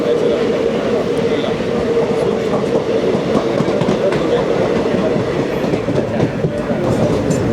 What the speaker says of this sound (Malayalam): അതാണ് നമ്മുടെ നിലമ്പൂർ കോട്ടയം എക്സ്പ്രസ്